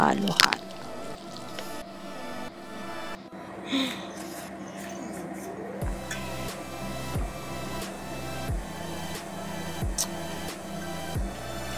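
Cassava cake batter with melted butter stirred in a bowl, soft wet squishing strokes repeating steadily near at hand, with a voice speaking over them.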